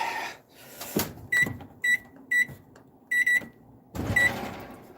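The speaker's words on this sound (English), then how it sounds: "propped up against my microwave, which is why the beeping may have been that loud." A microwave oven gives a series of short, loud, high electronic beeps, about six in an uneven sequence, among clunks and kitchen clatter.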